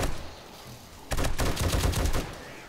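Rapid automatic gunfire in the video game 7 Days to Die, War3zuk mod, during a Day 21 horde night: a dense, loud burst of close shots after a quieter stretch, then fading back out.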